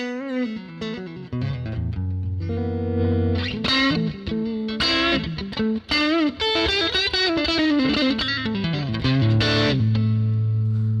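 Heavily distorted electric guitar through a Fractal amp modeler playing a busy riff with chords and single notes, loud and continuous, with a processed, effected tone.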